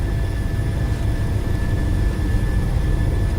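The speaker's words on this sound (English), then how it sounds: "Rolling takeoff sounds good, Chica. Let's go for it. Thrust stabilized, setting toga." Jet airliner engines at takeoff thrust in a flight simulator game, a loud, steady roar with a deep rumble and a thin high whine, constant throughout with no talk.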